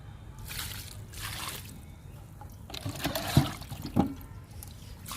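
Liquid fertilizer is poured from a can onto two chilli plants that have gone days without water, giving soft, trickling splashes with a couple of sharper drips near the end.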